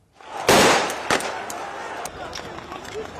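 Sharp firework bangs crack out a few at a time over a noisy crowd at a night street protest facing riot police, the first burst loudest and later pops fainter.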